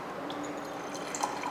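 Water streaming from a refrigerator's door dispenser, a steady soft pour with faint trickling and splashes, close and fairly quiet.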